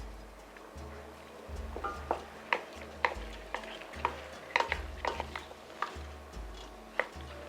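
A wooden spoon mixes a salad dressed with oil and balsamic vinegar, giving soft repeated scrapes and light knocks against the bowl at a steady rhythm, close and fairly quiet.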